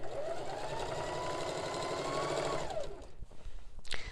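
A Singer heavy duty sewing machine stitches fabric over muslin with a steady, close motor whir and needle chatter for about three seconds, then stops, leaving brief handling clicks and rustles.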